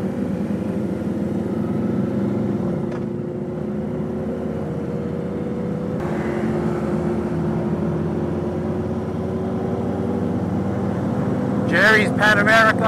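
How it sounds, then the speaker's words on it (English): KTM 1290 Adventure motorcycle engine, a steady low rumble running throughout with a brief shift partway, loud and close, while a person talks over it. "new KTM, 1290 Adventure, beautiful bike over there."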